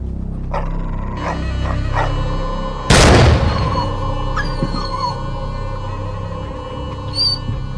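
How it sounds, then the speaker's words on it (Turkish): A dog barks repeatedly at close range, sharp yaps scattered over a steady low hum, with one loud burst partway through. "Sustur şu iti."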